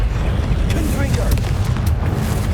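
A Confringo fire spell explodes in Hogwarts Legacy, a loud, dense roaring blast with rumbling low end that fills the whole moment, with sharp crackling bursts layered over it.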